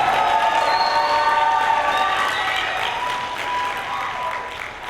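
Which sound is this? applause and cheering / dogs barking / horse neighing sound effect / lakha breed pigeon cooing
applause and cheering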